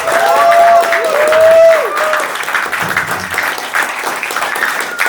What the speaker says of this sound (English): let's do a little round of applause to get everyone in